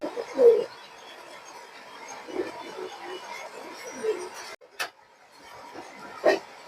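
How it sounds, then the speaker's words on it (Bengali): Soft, low coos from a black-necked pigeon repeat a few times at close range against a quiet background, with a brief sharp click in between. "এটা কালো গলা লাইনের কবুতর"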